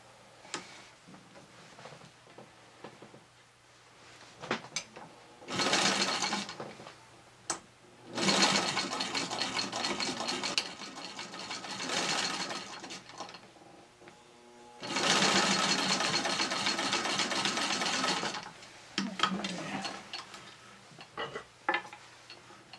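A vintage Singer Model 15-91 sewing machine stitches a seam on a patchwork flat cap in several bursts of steady mechanical whirring and ticking, close, separated by quieter handling and fabric rustle.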